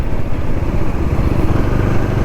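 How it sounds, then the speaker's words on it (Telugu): Steady low engine rumble from a motorbike on a morning road ride, with passing traffic blended into a continuous close drone and no talking. "పొద్దున్న ట్రాఫిక్ మొదలైంది"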